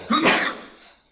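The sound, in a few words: sneeze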